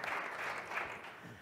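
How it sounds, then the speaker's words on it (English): Brief burst of applause from an audience, moderately loud and steady, fading slightly toward the end. "we can give him, yes, some applause"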